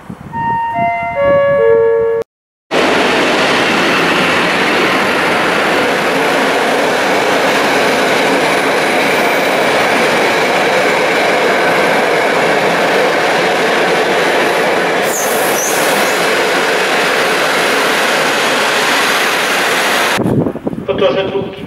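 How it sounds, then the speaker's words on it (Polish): A passenger train rushes through Łowicz Główny station without stopping, a loud sustained roar and rail rumble lasting most of the time, preceded by a platform announcement chime and voice. "Torze drugi przy peronie pierwszym przejdzie pociąg pasażerski bez zatrzymania."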